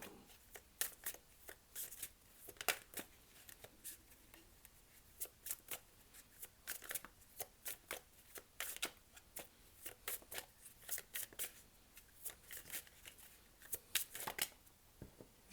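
Tarot cards shuffled by hand in a steady run of crisp riffling bursts and soft taps, close and quiet, continuing for the whole stretch with no voice over it.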